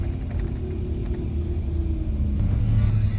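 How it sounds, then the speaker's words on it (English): A lowered dually pickup truck on 22-inch wheels rolls over speed bumps, giving a steady close engine rumble with low thumps that build slightly toward the end, with no voices. "Dually pickup trucks dropped on 22s do not like speed bumps, let me tell you."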